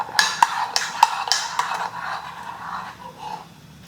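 A spoon clinks and scrapes against a bowl while brown sugar is stirred into a dinner roll dough mixture, giving a few light irregular taps close by, then softer scraping.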